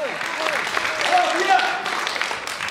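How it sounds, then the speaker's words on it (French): Audience applause at a telethon talent show, steady clapping that swells slightly mid-clip, with voices audible over it throughout. "Je vais les applaudir encore une fois, s'il vous plaît."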